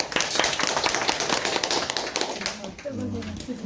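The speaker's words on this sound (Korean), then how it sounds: "박수 치고요" Dense, rapid clapping from a group of people fills the room at the end of a Diamond Sutra class at a Buddhist temple, with voices starting to talk as the applause fades at the end.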